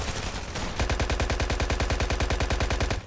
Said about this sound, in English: It's impressive how I missed every single one of those shots